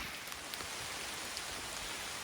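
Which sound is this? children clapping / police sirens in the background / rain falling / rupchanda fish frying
rain falling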